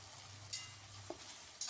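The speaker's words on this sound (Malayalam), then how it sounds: "നമ്മൾ പൊരിക്കാൻ വെച്ച ഉള്ളി എണ്ണയിലേക്ക് ഇട്ട് കൊടുക്കുക" Sliced onions frying in hot oil over high flame for crispy biryani topping, a soft steady sizzle with a few light stirring clicks, quiet and close, no talking.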